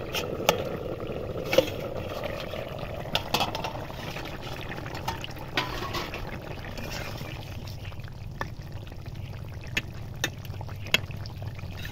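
Malabar spinach (pui shak) boils in a covered-then-opened pot, giving a steady wash of bubbling and simmering with occasional small pops and clicks, close and fairly quiet, with no talking.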